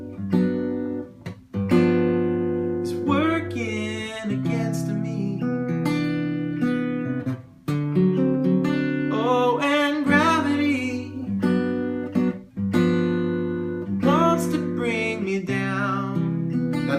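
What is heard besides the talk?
guitar chords with secondary dominants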